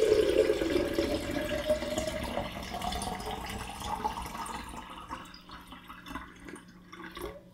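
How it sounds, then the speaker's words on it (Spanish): Water is poured into a kaolin container inside a jug, beginning with a loud close gush that rises in pitch as it fills and then thins to trickles and drips. "Primero lo hacemos en el recipiente de caolín."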